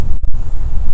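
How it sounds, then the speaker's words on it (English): Loud wind buffets close up in steady, rumbling gusts, with the low roar dipping briefly before surging back. "You can hear the wind behind me."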